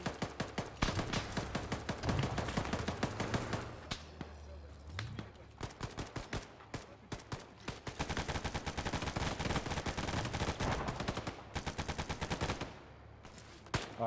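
Live gunfire from a mechanised infantry combat drill, with dense, rapid bursts of loud shots, some automatic, cracking almost without pause over fourteen seconds. There are brief lulls near the middle and near the end, and faint voices come through now and then.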